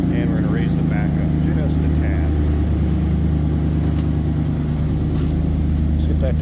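A 1961 Cadillac Series 62 Coupe's engine runs at a steady high idle soon after a cold start, a continuous low rumble heard from close behind the car, with a faint background hiss and no pauses.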